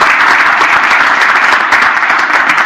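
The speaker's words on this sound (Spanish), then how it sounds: "Le damos un aplauso, por favor, a Hugo Gordon" Seminar audience applauds loudly and steadily, a dense wash of many hands clapping close by with no break for the whole stretch.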